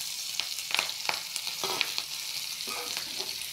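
Sliced onions and green chilies hit hot oil in a pan alongside hilsa fish. A steady, bright sizzle crackles throughout, with a few sharper pops and spatters near the start, and no talking.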